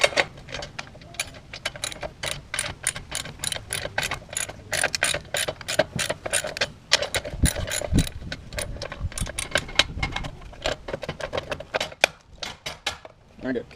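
Ratchet unscrewing rusty trailer light bolts, a fast run of sharp clicking strokes in bursts with brief pauses, close and clear, with some quiet talk.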